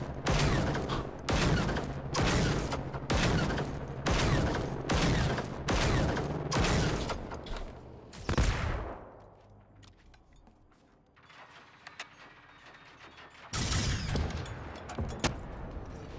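Gunfire aimed at robots in Generation Zero: a steady series of about ten heavy, evenly spaced rifle shots, loud and close, followed by a quieter lull with distant rumbles and then renewed firing.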